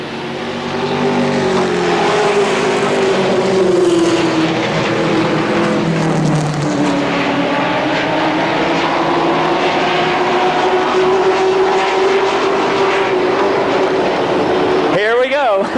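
Stock cars race at Motordrome Speedway, a loud continuous roar of engines at speed with pitch rising and falling as cars circle the track, steady throughout with a car sweeping past near the end.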